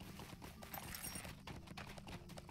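Horse hooves clip-clop steadily in the Lord of the Rings Online video game, a continuous trotting rhythm heard close and alone over a dense low game soundscape.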